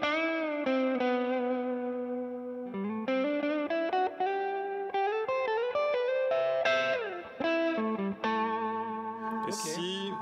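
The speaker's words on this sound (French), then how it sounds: "si là-dessus je veux du delay tu vois c'est vraiment pour qu'il arrive dans la queue de reverb" An electric guitar plays a melodic line through a pedalboard with soft delay trailing into a reverb tail, sustained notes ringing loud and close, with no voices.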